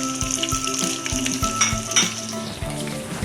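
Tomato paste with ginger sizzling and frying in a pan, a close, steady crackle punctuated by repeated metallic clinks and scrapes of a spoon stirring against the pan.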